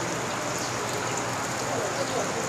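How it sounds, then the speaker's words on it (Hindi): Heavy rain pours down in Bhutan, a dense, steady hiss of drops on surfaces that stays loud and unbroken from start to end. "बारिश काफ़ी तेज़ होने लगी।"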